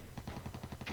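Artillery fire in the wargame Flashpoint Germany Reforged, a rapid series of muffled booms and blasts rolling in close succession, with no talking.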